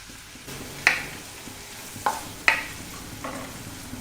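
Chopped onion in salted butter sizzles softly in a pan while a spoon scrapes through it in a few sharp strokes, for a butter garlic mushroom dish; steady low frying hiss underneath, no voices.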